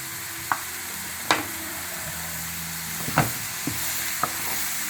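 Mushrooms and onions sauté in a pan for beef stroganoff, giving a steady close sizzle with a few sharp taps and scrapes of stirring. No one speaks.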